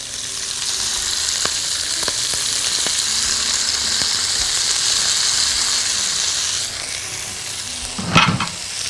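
Spinach fries in a spoonful of oil in a pan with a steady, loud sizzle and hiss, a few faint utensil taps, and a brief stirring clatter near the end, heard close with no talking.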